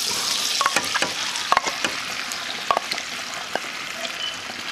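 Shrimp frying in butter in a pan, a steady close sizzle with occasional crackles and stirring taps as the pasta dish cooks.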